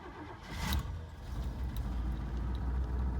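A 1990 Oldsmobile station wagon engine cranks briefly and catches, then settles into a low, rough idle that rumbles steadily nearby.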